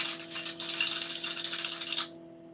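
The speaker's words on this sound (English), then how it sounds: "shaking the keys" A bunch of metal keys shaken and rattled close up in a children's sensory play session, a dense continuous jingling for about two seconds that stops abruptly, leaving low steady hum.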